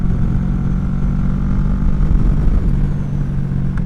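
A Kawasaki Vulcan 650 motorcycle cruising at speed, a steady low engine drone mixed with rushing wind noise, continuous and fairly loud with no speech.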